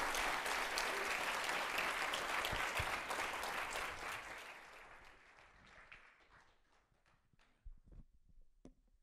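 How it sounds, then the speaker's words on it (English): A conference crowd at a Bitcoin event applauds loudly in a dense wash of clapping that gradually thins out, leaving a few scattered final claps. "Big round of applause for Nicholas Negroponte"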